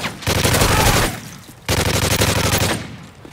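Sentry grenade turret firing in the Modern Warfare 3 video game: two loud, sustained bursts of rapid automatic fire, the first about a second long, a brief lull, then a second burst that tapers off.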